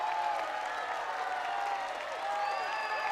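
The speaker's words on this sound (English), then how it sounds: "The crowd is going crazy." A crowd cheers and applauds in a sustained, loud roar with whistles and shouts rising over it, steady throughout with no clear talk on top.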